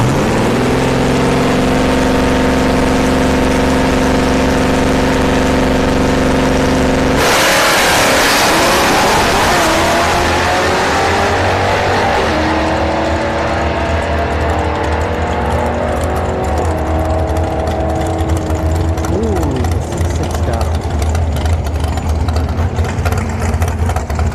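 A nitrous-equipped second-generation Chevrolet Camaro drag racing at Orlando Speed World: a loud, steady engine note that surges hard partway through into a raw, roaring launch, with harmonics sweeping as it pulls away and continuous racetrack engine noise throughout.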